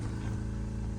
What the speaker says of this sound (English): So that seems to be the pump for the air suspension.